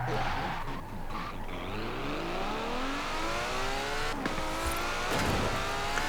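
Car driving in Forza Horizon 4, engine revving through rising gear sweeps with tire squeal and skidding, loud and close, with a couple of sharp knocks near the end.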